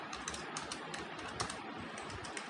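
Computer keyboard keys tapped while writing Java code, a quick irregular run of soft clicks close by, quiet and with no talking.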